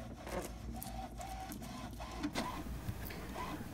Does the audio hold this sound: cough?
no